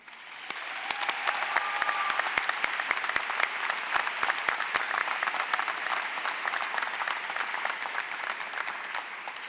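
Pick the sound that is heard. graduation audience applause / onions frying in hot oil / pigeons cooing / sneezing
graduation audience applause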